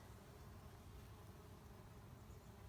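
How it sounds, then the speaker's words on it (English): Faint, continuous buzzing of bees on ceanothus blossoms against a quiet outdoor background, with no voices. "Let's see if we can hear any more bees."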